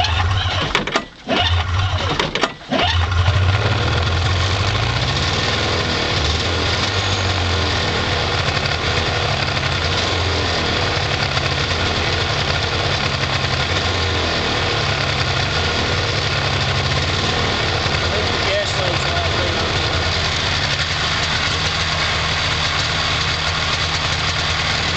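A 1992 Polaris Indy 500 snowmobile on half choke starts cold after a couple of brief pulls, then idles loud, steady and close with an uneven two-stroke burble for the rest of the clip.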